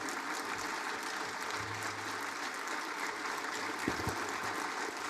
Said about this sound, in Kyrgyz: Мурдагы мамлекет башчысын жыйынга чогулгандар кол чабуулар менен узатышты.